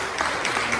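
A church congregation claps together during a Sunday service, a brief burst of applause that is fairly close and even.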